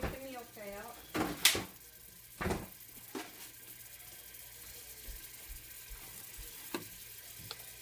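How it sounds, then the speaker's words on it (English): A macaroni and cheeseburger mixture being stirred in a frying pan: soft sizzling with a few scraping clinks near the start, then a quieter low simmer, and someone speaking briefly over it. "And I'm going to stir that around."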